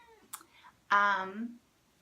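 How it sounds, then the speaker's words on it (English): A house cat meows once, close and clear. A short, higher chirp comes just before the meow, in an otherwise quiet room. "this is my cat Augie"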